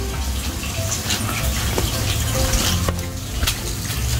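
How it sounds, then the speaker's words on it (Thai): Water gushing and draining out of an emptied kiddie pool, a continuous loud rushing flow heard close up with no talking. "ดูน้ำไหลออกไปนะบ้านเราครับ"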